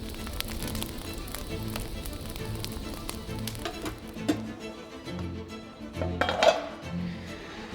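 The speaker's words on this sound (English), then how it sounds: "Cover the pan and let the cucumbers simmer" Cucumbers simmer in a pan, with soft bubbling and clinks of metal cookware at the start. A louder clatter comes near the end as a lid is set on the pan, and the sound is close and quiet with no talking.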